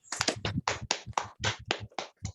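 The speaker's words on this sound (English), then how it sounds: "I'd like if we could all give Diane a round of applause." Applause for a guest speaker at an online practitioners' session, heard as a small number of close, sharp hand claps in an uneven rhythm, loud and distinct against silence.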